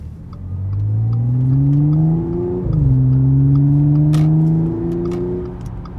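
An Audi S5 coupe's engine revs up steadily in two rising pulls, with a brief gear change between them, loud and close with no talking.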